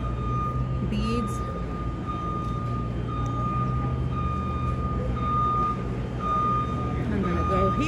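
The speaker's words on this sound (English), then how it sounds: "See the trucks setting up? This is why you hear so much beeping." Reversing beeps from trucks setting up at a Creativation 2020 craft trade show sound as a steady electronic tone that runs throughout, over busy hall noise, engine rumble and faint crowd chatter.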